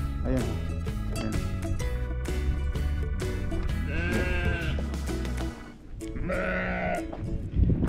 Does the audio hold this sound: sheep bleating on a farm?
yes